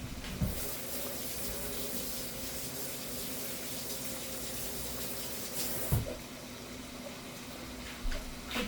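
A dropped spatula rinsed under a running kitchen tap, a steady broadband rush of flowing water throughout with a few brief clunks and splashes as the utensil is handled.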